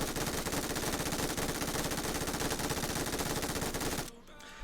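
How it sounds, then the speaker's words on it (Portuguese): Rapid, continuous automatic gunfire in PUBG Mobile, loud and sustained for about four seconds before cutting off abruptly. "Cadência de tiro extremamente espalhafatosa"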